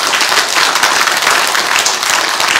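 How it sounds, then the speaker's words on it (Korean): Dense, sustained applause from a large audience of delegates at a political party convention in Gwangju, a steady wash of many hands clapping with no gaps. "여러분 같은 생각이면 박수 한번 쳐주시고"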